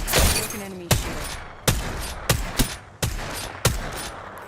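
Video-game gunfire from a battle-royale shooter cracks out in six or seven sharp, evenly spaced shots, each loud and close with a short ringing tail, and a brief high tone near the start.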